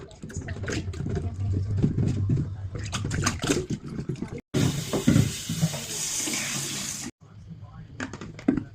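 Warm tap water runs and splashes over an under-bench water filter cartridge as it is rinsed at a sink, with the flow cutting in and out and a person talking in between.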